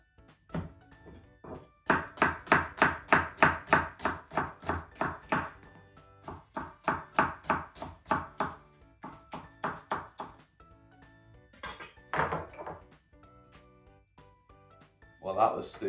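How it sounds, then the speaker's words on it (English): A knife chops an onion rapidly on a cutting board in bursts of quick, evenly spaced strikes, pausing between runs, with a voice heard in the background. "while chopping an onion."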